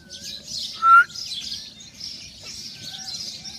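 Pigeons gathering to be fed peanuts outdoors, with light bird chirps and calls running throughout and one brief louder call near the start.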